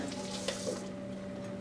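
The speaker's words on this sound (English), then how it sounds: "I'm gonna wash my hands again while you're getting ready" Kitchen sink tap running steadily while hands are washed, a soft continuous water rush with a faint splash partway through, heard alone without talk.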